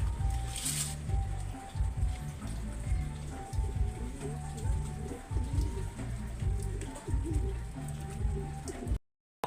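Steady rain patters on a surface at a moderate level, joined by a low droning hum, until the sound cuts out abruptly at the end.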